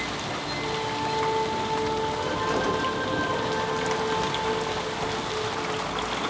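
Heavy rain with big drops pounds down outdoors during the Ironman Hamburg triathlon, a steady, loud, dense downpour that holds throughout with no voices.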